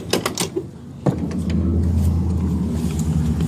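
A car engine cold-starts after sitting overnight: a few clicks and mechanical noises, then the starter catches and the engine settles into a steady, low rumbling idle, close and fairly loud.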